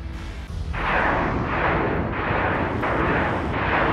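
Enemy ships firing on the player in Battlestar Galactica Deadlock, heard as a loud, continuous barrage of booming, rumbling blasts that swell in repeated waves over a few seconds.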